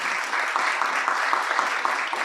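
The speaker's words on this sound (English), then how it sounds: "please give Prof a round of applause" A room of attendees at a healthcare summit in a hotel gives the professor a round of applause, with sustained, close-packed clapping at a constant, fairly loud level.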